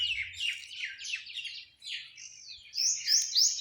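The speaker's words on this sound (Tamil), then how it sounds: "பறவைகள் சத்தங்க" Several small birds chirp and tweet near a village temple dedicated to Maha Muneeswaran, in a quick run of bright, rising and falling calls that grow busier toward the end, faint against an otherwise quiet setting with no talk.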